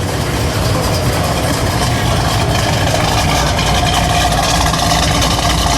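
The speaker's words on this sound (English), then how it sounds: "The exhaust note." A 1970 Pontiac Trans Am 400 Ram Air IV V8 idles steadily with a rumbling, throaty exhaust burble, loud and continuous, echoing slightly as if indoors.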